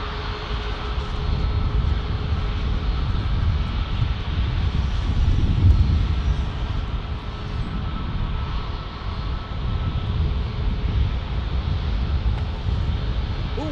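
Steady roar of an airliner, a United 737 MAX or A321neo, departing from San Diego airport, a broad continuous engine rumble holding level with a slight swell midway, heard from a distance without talk.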